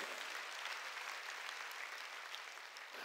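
A church congregation at a sermon by a pastor breaks into applause, a steady broadband wash of many hands clapping together, fairly distant and even throughout, with no voices over it.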